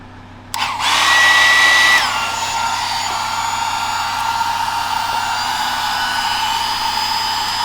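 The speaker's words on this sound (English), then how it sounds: "I think I just need a new hairdryer." A hairdryer switches on abruptly with a loud, steady whir, drops slightly in pitch after a second, then keeps running as a constant blowing hum, with no talk over it.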